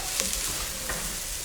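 Onions and meat for rogan josh brown in a pan on a gas stove, giving a soft, steady sizzle with a couple of light stirring clicks, fairly quiet and without speech.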